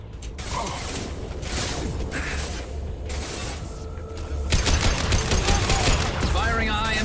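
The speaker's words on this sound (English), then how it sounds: "Firing a high-impact shot." Rapid bursts of gunfire in the video game Mass Effect 2, loud clattering volleys that intensify partway through, with sharp mechanical clicks between shots.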